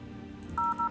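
Two quick touch-tone keypad beeps dial the number for FEMA, rising sharply out of a soft room hum right at the end.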